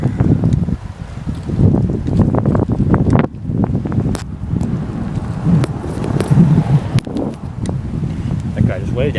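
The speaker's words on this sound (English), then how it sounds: "The wind's coming up. The wind is pumping up. I might have to cut out the audio." Gusty wind buffets the microphone throughout a bike ride, a steady low rumbling roar with surges and dips, while occasional talk sits underneath.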